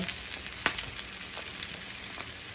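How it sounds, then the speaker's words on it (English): Butter sizzling in a pan alongside stuffed salmon, a steady close frying hiss with a small clink partway through, no voices. "Now I'm going in with some butter."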